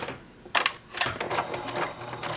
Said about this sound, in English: place them right sides together, and stitch using a